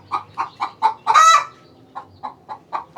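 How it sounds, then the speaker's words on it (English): Chickens clucking in a steady series of short, rhythmic calls, with one longer, louder squawk in the middle; fairly close, no voices. "Sounds like the chickens are excited about that too."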